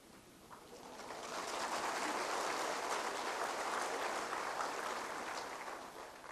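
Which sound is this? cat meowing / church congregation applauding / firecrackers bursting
church congregation applauding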